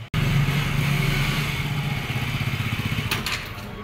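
A motorcycle engine idles close by with a steady low rumble, then settles into a pulsing, uneven throb.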